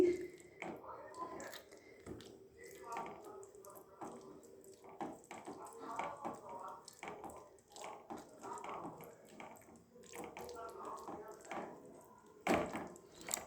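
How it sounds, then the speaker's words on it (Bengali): Boiled tomatoes, chilli and garlic being mashed by hand, close wet squishing and squelching in quiet, uneven rhythm. "সব সেদ্ধ হয়ে গেছে, এগুলো মেখে দিচ্ছি।"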